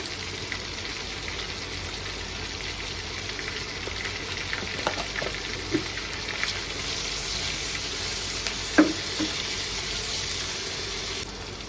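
Shrimp fry in oil with reddened onions, garlic paste and cumin paste, giving a steady close sizzle with a few faint clinks of stirring and no voices.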